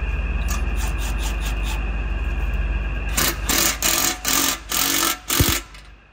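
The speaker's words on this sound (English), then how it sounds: "Excuse the backup alarm." A vehicle backup alarm beeps in a steady, rapid rhythm during a truck exhaust installation, fairly faint under a constant hum, then gets buried by loud bursts of rasping, scraping tool noise.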